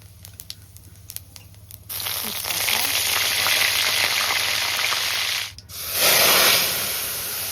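Chopped cumin seeds drop into hot mustard oil in a kadai, setting off a loud crackling sizzle after a few quiet clicks, a brief pause, then a fresh surge of frying hiss.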